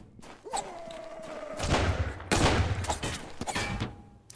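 Gunfire in the video game Sunkenland, a fusillade of thumping shots in bursts with dull impacts and tonal game effects, moderately loud and without speech.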